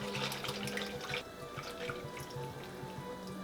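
Liquid for a Guinness onion gravy pours into a hot pan on the stove, a close, steady watery trickle with light splashing and bubbling throughout.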